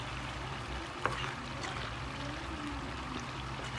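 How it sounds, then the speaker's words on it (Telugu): Water is poured into chicken curry simmering with masala in a pan, giving a soft, continuous trickling and splashing. The sound stays faint and steady, with one small clink near the start. "ఈ మసాలాలన్నీ ముక్కలకు పట్టడం కోసం కొంచెం వాటర్ వేస్తున్నాను నేను"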